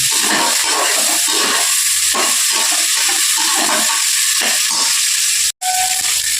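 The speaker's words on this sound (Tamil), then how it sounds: "புதினா போடுறேன் மல்லியும் போட்டுக்கிறேன் அதோட இதையும் போட்டு கொஞ்சம் நேரம் வதக்கிக்கணும்" Mint and coriander leaves sautéing in a hot pan, a loud, steady sizzling hiss that carries on almost without break, cut off for a moment near the end.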